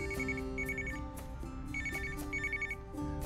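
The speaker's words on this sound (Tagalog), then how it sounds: "May tumatawag pa sa cellphone ko." A cellphone ringtone for an incoming call chimes in repeated melodic bursts, fairly loud and close, at a hillside grotto and church site with no talking over it.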